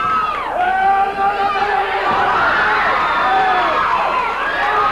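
A wrestling crowd cheers wrestler Bill Dundee at a Memphis match, loud sustained roaring and shouting with whistles and excited voices rising and falling throughout.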